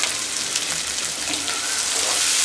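Boiled potatoes frying in oil with chili powder, a steady close sizzle and crackle running unbroken throughout with no talk.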